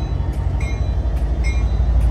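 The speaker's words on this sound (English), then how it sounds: "Amtrak Capital Corridor train 541." An Amtrak Capital Corridor doubleheader led by F59PHI locomotives departs Richmond Station, giving a loud, low rumble with faint periodic clicks of wheels over rail joints, heard close and without talk.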